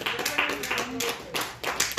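A church congregation claps hands in praise, a dense run of sharp overlapping claps sustained for two seconds, with faint voices underneath.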